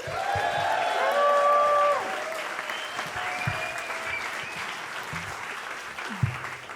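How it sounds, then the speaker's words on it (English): Steady applause from an audience at a live show at Joe's Pub in 2023, given for the bartender; a dense, sustained wash of clapping that swells early, eases slightly and continues throughout. "Can we get a little round of applause for your bartender, Daryl?"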